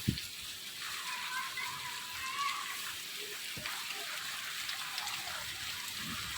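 Steady light morning rain patters and hisses in the background, a soft continuous wash of drops with no distinct breaks.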